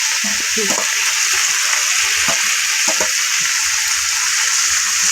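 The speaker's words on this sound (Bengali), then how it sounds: "লাল লাল করে এখন মাংসটা খুব সুন্দর করে কষানো চলছে" Meat with fried potatoes sautéed in a pot on a home stove, a constant hissing sizzle with occasional stirring knocks and scrapes, close up, with no talking.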